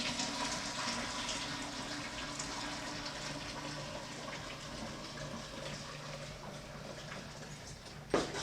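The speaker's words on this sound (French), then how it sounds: "Donc on va sparger avec mon 13-12 litres d'eau à 78 degrés." Hot sparge water at 78 degrees, about 12 to 13 litres, pours over mashed grain while homebrewing a Brett saison beer, giving a soft, steady trickle and gush with a brief clunk near the end.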